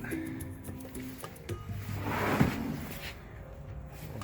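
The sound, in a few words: van cabinet door opening and closing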